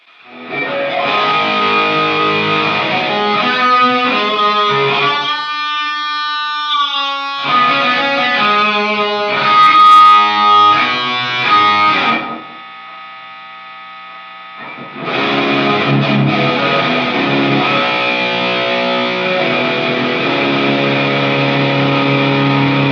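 Distorted electric guitar through a Sonicake Pocket Master amp modeler rings out with analog delay and reverb, sustained chords and notes trailing off into a brief pause before the playing resumes.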